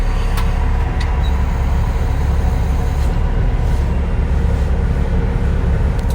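A Bobcat T770 compact track loader drives forward and back, its engine and tracks making a loud, steady rumble with a dense rattling clatter and a few brief higher clanks, close and continuous.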